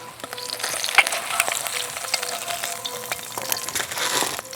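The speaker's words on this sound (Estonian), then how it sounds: "Säriseb ja suriseb." An egg frying in a pan on a small cooking corner, with steady crackling sizzle and sharp pops throughout, close and fairly loud, no talking.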